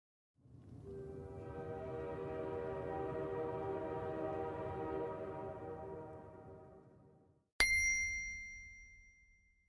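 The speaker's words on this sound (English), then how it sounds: "Train." A train sounds a long, steady horn that swells and fades over several seconds above a low rail rumble, then a bright chime rings out after a short gap.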